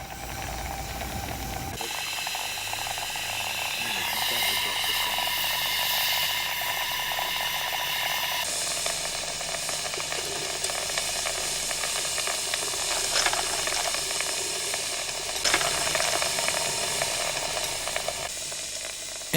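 A steam locomotive builds pressure with a continuous hiss of escaping steam. Rhythmic mechanical ticking and clatter run beneath it, and the hiss rises and shifts in strength over the long, steady stretch.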